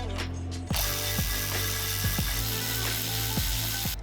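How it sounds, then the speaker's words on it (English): A ratchet drives the longer screws that bolt a crossbar to a Bronco roof rack rail. Rapid, close pawl clicking runs in several short bursts over a steady background hum. "Use the longer screws included to bolt the crossbar to the rail."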